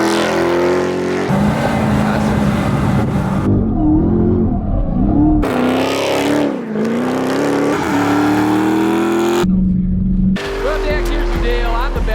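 A Dodge Charger Hellcat with a Pedal Commander throttle controller in Sport Plus mode accelerates hard, a loud engine roar rising in pitch through gear changes, with voices talking over it.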